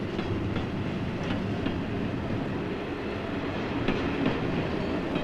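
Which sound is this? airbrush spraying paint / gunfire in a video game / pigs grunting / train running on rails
train running on rails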